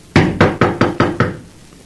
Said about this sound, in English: You going to knock?